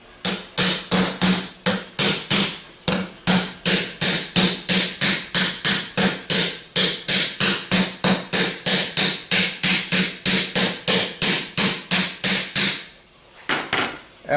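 Repeated sharp taps drive the lid onto an AD alternator during a rebuild, roughly forty evenly spaced close, loud strikes over about thirteen seconds, with no talking.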